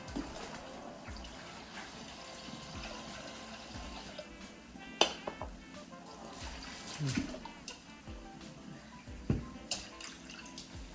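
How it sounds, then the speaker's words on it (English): Water runs and splashes into a bowl with occasional clinks and knocks, fairly quiet and steady throughout. "I fill up a bowl of water."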